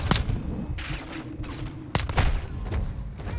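Gunfire in Call of Duty: MWII, a dense stretch of shots and impacts with several sharp cracks over a busy, rumbling battle background.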